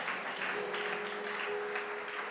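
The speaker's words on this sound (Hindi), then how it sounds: "जोर से ताली बजाएंगे" A church congregation clapping together during a sermon, a continuous dense wash of hands with a faint sustained tone underneath, steady and fairly distant.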